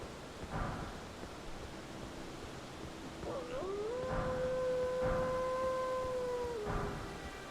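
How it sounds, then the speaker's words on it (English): A big wolf in Elden Ring lets out one long, rising, sustained howl that holds steady for a few seconds before trailing off, heard over a quiet game ambience. "I hear you, wolf. I hear you. That's a big wolf right there."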